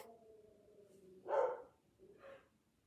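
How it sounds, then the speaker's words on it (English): Two short barks from a dog somewhere away in the room, fairly faint, the first louder than the second, over a low background hum. "That is my dog."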